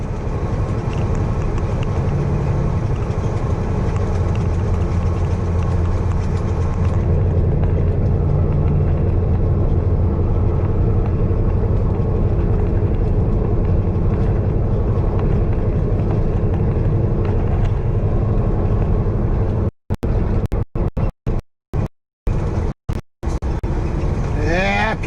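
Steady, loud rumbling road noise from inside the cab of a Peterbilt truck cruising down the road, continuous engine and tire drone with a few brief dropouts near the end.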